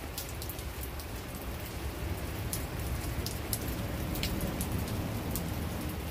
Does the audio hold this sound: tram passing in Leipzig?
no